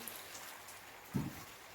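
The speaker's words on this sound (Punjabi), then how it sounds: "ਮੀਂਹ ਚੜ ਕੇ ਦੇਖੋ ਕਿੰਨਾ ਆ ਗਿਆ" Heavy evening rain falls steadily outdoors, heard as a faint, even wash of patter at a distance with one brief low thump partway through and no voices.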